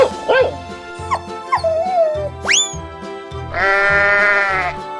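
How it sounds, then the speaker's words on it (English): A cartoonish sheep from a 3D animal slide video game bleats once in a sustained, wavering cry, following several short animal yelps over a bouncy, rhythmic game music loop. "Sheep."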